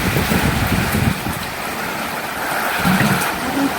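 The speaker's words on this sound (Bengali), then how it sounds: "এখন খুব জোরে বৃষ্টি নামছে" Heavy rain pours down under a dark, cloud-covered sky in a steady, loud, dense roar with no breaks, heard close by from indoors.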